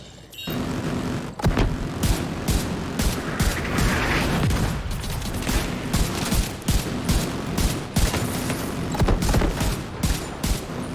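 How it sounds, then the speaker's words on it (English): Heavy gunfire from an autocannon mixes with mortar blasts in a Division 2 firefight, with dense bursts and sharp booms hammering almost without pause. "I'm seeing mortars on the roof, and we've got a lot of hostiles ahead. But it looks like the smoke's working. The autocannon seems to be firing blind."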